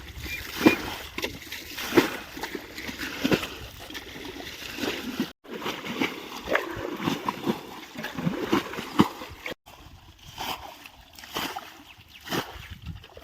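Water gushing out of a dammed stream and breaking through the banks on all sides, a steady close rush with irregular splashes and slosh throughout, during hand fishing outdoors.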